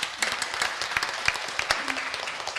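A church congregation applauds in thanks at an anniversary worship service, steady mid-level clapping from many hands filling the hall without pause.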